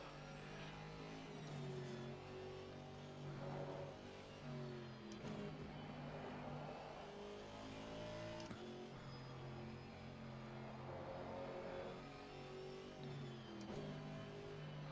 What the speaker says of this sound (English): I love the sound of this car though.